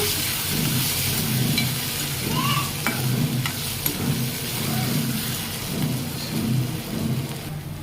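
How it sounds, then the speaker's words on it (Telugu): Vegetables frying with turmeric in a pan, a steady loud sizzle with stirring scrapes throughout, close and continuous. "పసుపు కూడా వేసుకోండి వీటిని బాగా వేయించుకోవాలి"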